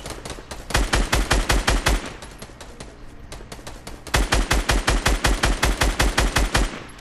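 Rapid automatic gunfire in a Fortnite match, two long bursts of loud, evenly spaced shots separated by a brief lull, close and dominant with no talking over it.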